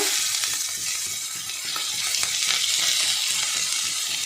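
Onion, garlic and ginger paste fry in hot oil in a pan with a steady, close sizzle and crackle that holds through the whole stretch, with no talking.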